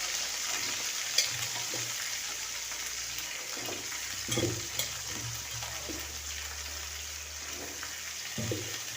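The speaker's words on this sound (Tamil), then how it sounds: "கடுகு உளுந்து போட்டதுக்கப்புறம் காலிஃப்ளவர் போட்டுக்கிறோம்" Cauliflower fries in a pan with mustard seeds and urad dal: a quiet, steady sizzle under scattered soft knocks and scraping from stirring.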